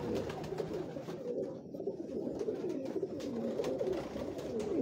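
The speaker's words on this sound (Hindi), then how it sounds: "ये डब वाले कबूतरों में से जी मेरी एक ब्रीड है जिनको हम टाइगर कबूतर कहते हैं जी" Tiger pigeons, a spotted breed kept on a Lahore rooftop, coo softly and continuously in a low murmuring chorus with steady background hum, no voices.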